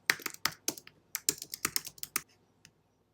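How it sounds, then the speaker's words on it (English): Someone types a question on a computer keyboard, producing a quick flurry of close, crisp key clicks that thins out to a few final taps, with no talking. "I might just type a question in this column"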